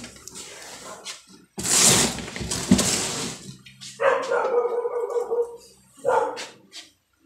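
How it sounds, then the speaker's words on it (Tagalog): A dog barks in several loud, rough bursts close by, with short pauses between. "Maingay si aso."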